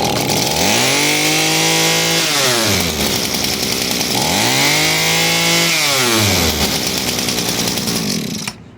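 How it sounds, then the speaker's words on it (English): A two-stroke Echo PE-230 edger engine, just repaired with a new carburetor and fuel line, screams loudly up close, revving up and down twice in long swoops before cutting off. "Fires right up, runs perfect."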